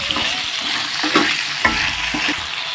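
A salted vegetable curry mixture for an Onam kootu curry is stirred in a hot pan, with a continuous sizzle and a few soft scraping strokes up close, no voices.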